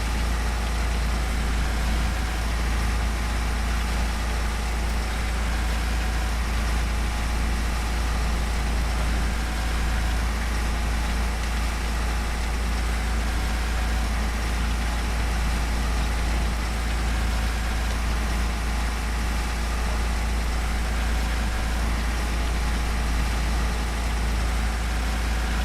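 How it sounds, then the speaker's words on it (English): A tractor engine in the video game Farming Simulator 15 runs at a steady idle, a constant low rumble that holds unchanged and alone throughout. "if this tractor had some updated sounds, it would be absolutely amazing."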